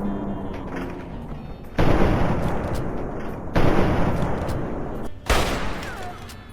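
Three heavy gunshots from a weapon fired at a zombie in the Fallout 3 video game, each a sudden loud crack with a reverberant tail, spaced unevenly over a dim, humming underground backdrop.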